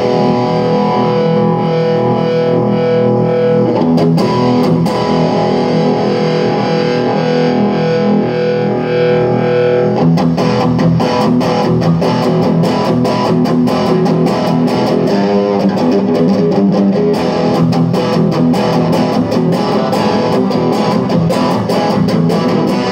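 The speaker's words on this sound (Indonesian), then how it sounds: "kita coba distorsinya ya." An electric guitar plays through a distortion effect and amp, loud sustained chords and riffs with a gritty, saturated tone and a brief pause around the midpoint.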